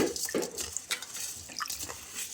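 Rice and lentils are washed by hand in water for homemade baby cereal, giving soft close splashes and sloshing swirls with a few drips, quiet and without speech.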